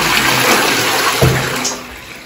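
Toilet flushing in a newly renovated bathroom, a loud, continuous rush of water close by with a gurgling surge midway, tapering off at the end; no talking.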